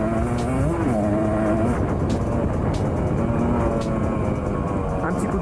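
A 200cc enduro motorcycle engine runs loud and close, its pitch rising with a quick throttle blip and then settling back to a steady rumbling drone with wind noise.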